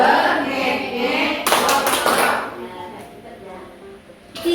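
A group of participants at a school workshop plays a rhythmic clapping game, Tepuk Konsentrasi. Short bursts of unison clapping come between chanted voices, with a sharp final clap at the end.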